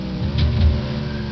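A NASCAR stock car engine in the racing game NASCAR Racing 2 drones steadily and loudly throughout, with a slight rise in revs partway through and no talk over it.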